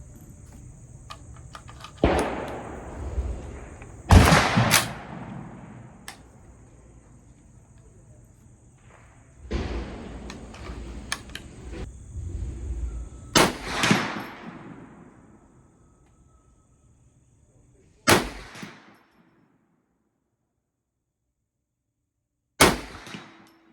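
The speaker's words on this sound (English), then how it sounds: "You can just drop the first round in the chamber and send the bolt home." A Ruger M44 Magnum carbine is loaded and its bolt cycled, giving several sharp metallic clacks and clangs spaced apart, with quieter handling rustles between them in a quiet room.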